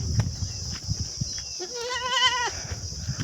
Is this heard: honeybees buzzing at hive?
no